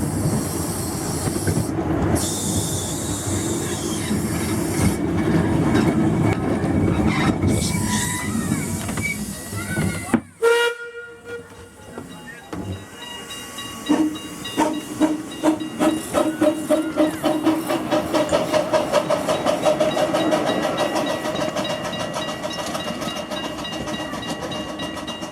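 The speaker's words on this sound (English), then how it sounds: "The steam engine we have that was not built here" A steam locomotive hisses loudly and continuously at close range, then after a brief drop starts chuffing in a quickening rhythm of sharp exhaust beats. Faint voices can be heard in the background.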